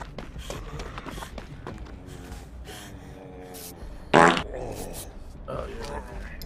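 A sharp, buzzy fart sound breaks out briefly in the middle of chatter, a single loud sputtering burst standing out above voices and background game noise.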